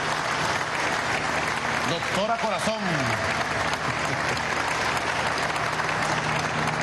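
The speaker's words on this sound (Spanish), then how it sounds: "un aplauso" Crowd applause fills a Venezuelan government economic announcement hall, a steady loud wash of clapping under a voice speaking over it.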